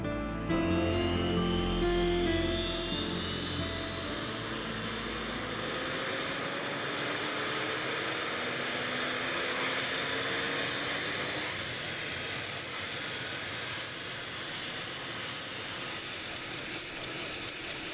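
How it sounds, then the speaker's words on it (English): Boeing Chinook twin-rotor military helicopter, a loud turbine whine rising steadily in pitch over a broad rumbling roar, sustained throughout with no talk. "the twin-rotored Chinook has been in service since the Vietnam War in 1972"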